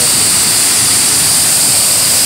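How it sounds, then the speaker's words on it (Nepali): A waterfall on a black-water stream roars loudly and continuously, a dense, steady rush of falling water with no voices. "कालो पानी का झरना"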